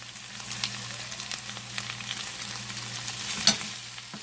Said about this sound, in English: I'm just going to stir it around a little.